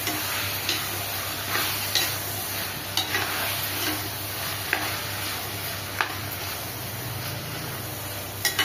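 Mutton biryani masala and ground pepper paste being stirred together in a pot, a soft steady sizzle broken by occasional light ticks and scrapes of a spoon against the metal, close and unaccompanied by talk.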